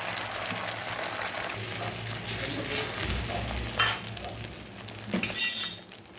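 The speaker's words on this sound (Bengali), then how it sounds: "প্রথমে ডিমটা একটু ভেজে নেব" An egg fries in a pan with a constant hissing sizzle, punctuated by a few clinks and scrapes of a utensil against the pan.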